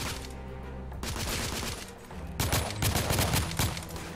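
Gunfire in the video game The Order: 1886 from a blind-fire firefight, rapid bursts of shots in two volleys with a short lull between, loud and close.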